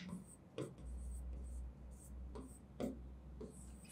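A pen writes an essay by hand on paper, giving close, faint scratching strokes in short bursts with brief pauses, over a low steady hum.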